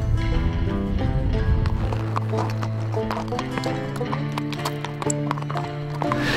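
Horses on a trail ride in the Pyrenees near Béon, hooves clip-clopping steadily and close, with a horse whinnying among the rhythmic footfalls.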